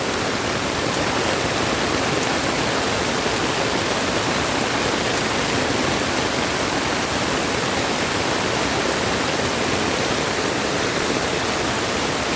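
Water rushes loudly and steadily close by into a drainage canal, a constant roar with no pauses and no voices.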